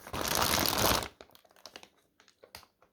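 A plastic bag crinkles loudly up close for about a second while a re-sealed Intellivision is unboxed, then gives way to small scattered crackles and taps.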